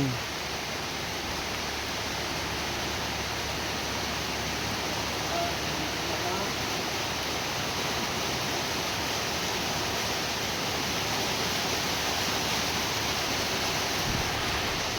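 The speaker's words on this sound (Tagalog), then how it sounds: "Sige, continue pa ang ulan." Steady rain on a farm falls in a dense, even hiss that runs unbroken throughout, loud and close with no pauses.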